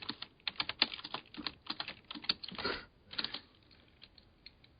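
Someone types on a computer keyboard in an irregular run of close, quiet key clicks with short pauses, no voices.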